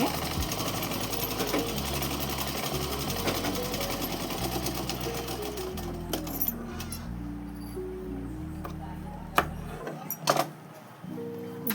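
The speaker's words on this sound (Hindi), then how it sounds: "यहाँ पे हमने सिर्फ सिंगल सिलाई लगाई है।" Sewing machine stitching a coat suit, running steadily and close for almost the whole stretch with shifting motor pitch, then stopping briefly near the end with a couple of small knocks before it resumes.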